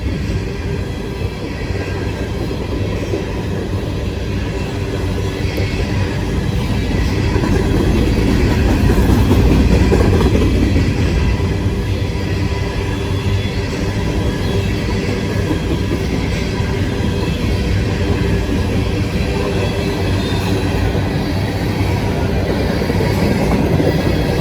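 A freight train with DPU locomotives passes close by, a loud sustained roar of rolling wheels and rail rumble that swells midway and holds steady throughout.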